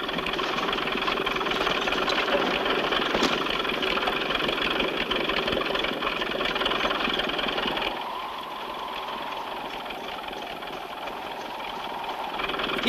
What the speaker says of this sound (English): And Jeep, control the engine